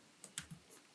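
A few scattered computer keyboard keystrokes, light and close, with gaps between them during a Python coding session at a desk.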